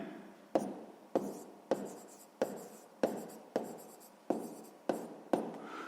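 Pen writing on paper while working a sixth-grade math exercise, with regular strokes repeating about every half second and sharp scratchy onsets, close and fairly quiet.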